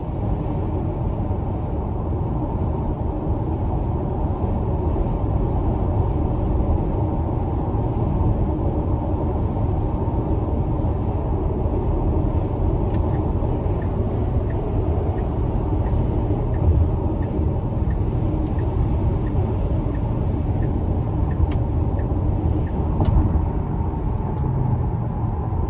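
A 2020 Tesla Model X Long Range drives on a road, giving a steady low rumble of tyre and road noise heard from inside the cabin, even and unbroken throughout.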